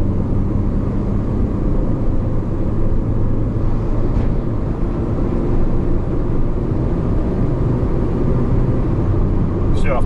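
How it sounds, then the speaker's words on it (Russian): A Lada Granta liftback with a JATCO automatic gearbox cruises along a highway, giving a steady, loud low road and engine rumble that holds without a break, with a brief higher squeak near the end. "Вот автомат переключился на третью передачу."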